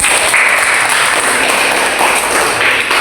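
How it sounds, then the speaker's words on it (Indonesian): A classroom of students applauding, a dense, continuous wash of many hands clapping at once, loud and steady throughout the short burst. "Oke, tepuk tangan untuk"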